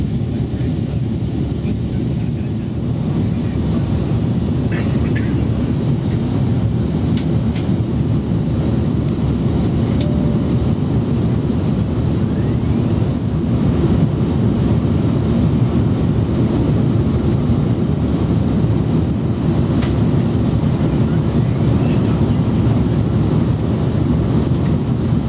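Steady low cabin roar inside a Qantas Airbus A330 departing Singapore for Sydney, a continuous broadband engine and airflow rumble with no talk, holding constant throughout.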